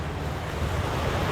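A brief gust of cold autumn wind blows outdoors during plein air painting beside a black walnut tree, a soft, even rushing buffet against the microphone lasting about a second, with no voices.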